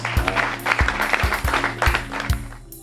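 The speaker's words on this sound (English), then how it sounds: "I'd like to give Black is Back a round of applause for organizing such a great event" Audience at a corporate event applauding a guest speaker's welcome, a burst of many hands clapping close and loud, with a few heavier thumps on the beat and voices underneath, cutting off abruptly at the end.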